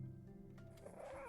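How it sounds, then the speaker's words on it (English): A cat's vocalisation, a short growly meow with a rising tonal cry toward the end, heard up close and alone over a low background rumble. "Cat noises make me happy."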